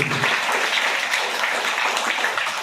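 Audience at an association gathering applauding, a dense, steady wash of many hands clapping together, fairly loud and sustained for the whole stretch with no talking over it.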